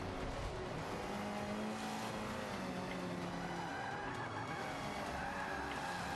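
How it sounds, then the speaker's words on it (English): Race car skidding and spinning out in Forza Motorsport 5 on an early sport circuit in France: a continuous, fairly faint hiss of sliding tires mixed with engine drone, steady for several seconds. "We're spinning, we're spinning."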